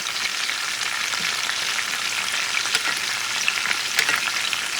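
A rack of lamb pan-searing with rosemary, giving a steady close hiss and crackle of sizzling fat that runs evenly throughout with no talk.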